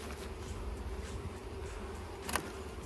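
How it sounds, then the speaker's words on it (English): A mass of honeybees drones steadily in a low, continuous buzz while a hive box is handled, fairly quiet and close, with one brief clatter near the end. "About 40 pounds of bees?"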